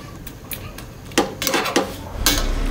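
A spoon scrapes and clinks against a cooking pot of shrimp sour soup with vegetables, giving several sharp metallic knocks amid light stirring noise, close and fairly loud, with no talking.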